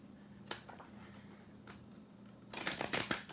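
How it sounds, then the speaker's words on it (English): A tarot card deck being shuffled by hand nearby, soft riffling flicks at first followed by a louder, dense burst of rapid card slaps toward the end, with no talking. "I'm just going to go ahead and shuffle that real quickly before we start this reading"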